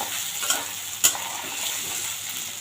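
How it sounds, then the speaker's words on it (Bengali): Soybean chunks fry in a pan with a steady hiss, interrupted by two short clicks from the stirring spoon against the metal. "এই যে সোয়াবিনগুলো দিয়ে দিলাম, এখন ভালো করে ভেজে নেব, লাল লাল করে ভেজে নেব"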